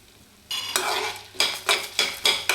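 Chana dal, urad dal, fenugreek, pepper, coriander and cumin dry roasting in a pan, stirred in quick repeated strokes that give rhythmic, close-up rattling scrapes of dry grains and seeds.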